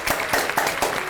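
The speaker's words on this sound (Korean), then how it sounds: "박수!" Classmates clap in a classroom, a quick run of close, even claps for about a second.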